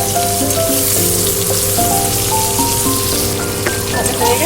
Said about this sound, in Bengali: যেহেতু চিংড়ির সাইজটা একটু বড় বড়, সেজন্য আমি দুটো দুটো করে ভেজে নেব।